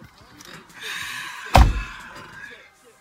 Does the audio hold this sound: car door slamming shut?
yes